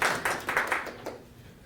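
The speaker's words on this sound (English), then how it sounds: "I'm gonna give all of you another round of applause" A small group of people claps briefly in a room, giving a few loose, close claps that fade quickly over under two seconds.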